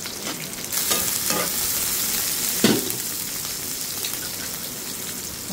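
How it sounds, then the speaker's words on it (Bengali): Sliced onions and green chilies frying in oil in a pan for a bitter gourd dish, a constant loud sizzle with a few scraping stirs of the spatula and no talk. "আর এক চুলায় করলাটা ভাজি করে নিই"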